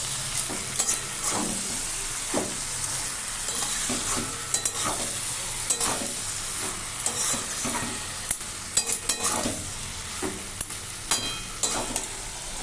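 Spinach stem curry sizzles steadily in a pan while a spatula stirs and scrapes through it, giving repeated close clacks and scrapes over a continuous frying hiss.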